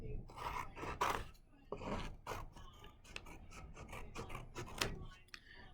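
Paper trimming along the spine edge of a book cover during a folded book art craft, heard as a close series of rough, rasping cuts and scrapes with irregular rhythm, with no talking.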